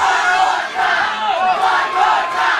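Wrestling crowd at a Big Time Pro Wrestling tag team title match in Texas roars and shouts continuously, a dense, loud wall of cheering voices that surges in waves.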